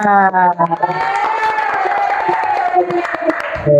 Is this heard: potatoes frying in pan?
no